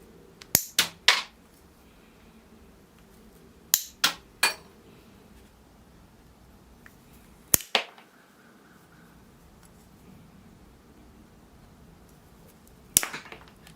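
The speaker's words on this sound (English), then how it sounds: "So I will get out the pruners and just nibble it down." Hand pruners snipping dead branches from the centre of a young maple being trained as a bonsai, a few crisp clipped cuts in short pairs and triplets separated by quiet pauses, close and clear with no talking.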